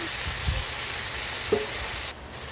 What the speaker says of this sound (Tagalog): Hinalo ko lang po mabuti hanggang sa maluto yung giniling